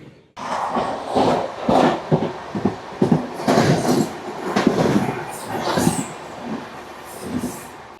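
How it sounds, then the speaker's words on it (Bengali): The Saraighat Express passenger train rumbles along with rhythmic clattering wheels and rushing noise as it enters New Cooch Behar station, loud and close, with faint voices underneath. "আমাদের ট্রেন 307 কিলোমিটার অতিক্রম করে নিউ কোচবিহার স্টেশনে প্রবেশ করছে"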